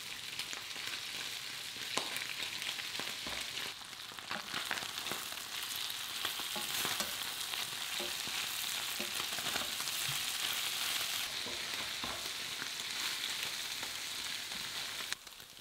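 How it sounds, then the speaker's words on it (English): Pork shoulder pieces fry in a hot pan, a steady crackling sizzle running throughout with occasional sharper pops, close and fairly quiet with no one speaking. "we're going to fry it for about 8 to 10 minutes, moving it around the pan just a couple of times until you get some lovely crispy bits"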